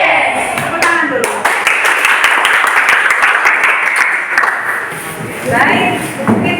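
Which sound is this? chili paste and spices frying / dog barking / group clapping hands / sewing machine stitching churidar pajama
group clapping hands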